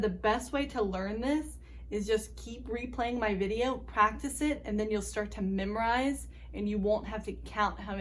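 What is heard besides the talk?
No distinct noise like a dog, phone or traffic.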